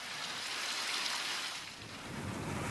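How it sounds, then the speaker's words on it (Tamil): Heavy rain driven by wind across the Perambalur district, a dense, steady roar of rainfall that hisses continuously throughout, with no voices present. "காற்றுடன் பலத்த மழை பெய்தது."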